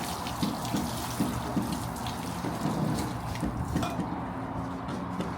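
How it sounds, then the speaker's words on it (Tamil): Water poured at a housewarming ceremony, a steady splashing and trickling stream with faint clinks of vessels, continuous and fairly close. "நான் தண்ணி ஊற்ற போகிறேன்."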